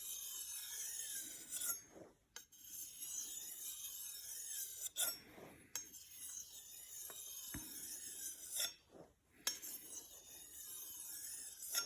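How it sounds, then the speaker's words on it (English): A knife blade is stroked along a leather strop in repeated rasping, rubbing passes, close and fairly steady, with a few short pauses between strokes. "I'll keep them honed, and then we'll put them on the leather strop to try and prevent loss of material."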